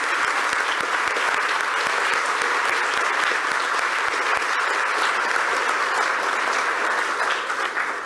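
A large audience at a Luso-Brazilian congress of tax auditors breaks into sustained, dense applause that carries evenly at full strength for about eight seconds, thinning only slightly at the very end.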